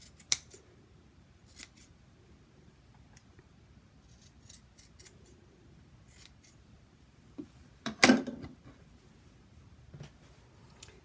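Fabric scissors snip a few times while trimming material for a sewn bowl cozy, with quiet cuts scattered throughout and a louder cluster of sharp snips near the middle, close and alone with no voices.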